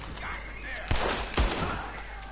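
Gunfire from the video game Red Dead Redemption 2 during a rooftop shooting challenge, two heavy booming shots under steady background game noise, with a voice talking over it.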